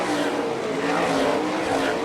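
Sprint cars race on the Fremont, Ohio dirt speedway, a loud continuous roar of several engines at high revs running together without pause.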